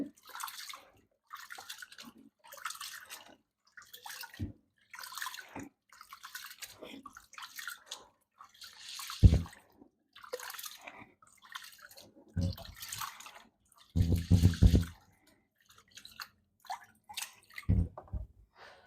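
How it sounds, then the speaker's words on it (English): Rice being washed in water by hand to remove the starch, with intermittent sloshing, swishing and splashing bursts separated by quiet gaps, close and moderately loud. "wash out all the starch from the rice"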